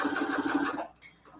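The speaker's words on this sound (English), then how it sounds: "I am so happy with my new sewing machine" A sewing machine stitches a Christmas pocket for a junk journal, a steady close whirring for most of a second before it stops and leaves near silence.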